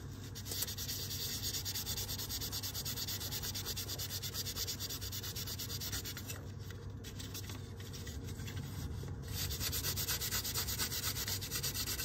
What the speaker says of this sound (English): Get yourself a clean cloth and just give it a good old scrub.